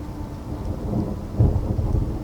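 Rain with rumbling thunder, a steady wash of rainfall under low rolling booms that swell louder midway, with no voices.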